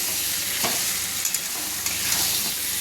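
A bottle gourd dish cooking in a pan after lemon leaves go in, with a soft, close sizzle and a few brief scrapes of stirring.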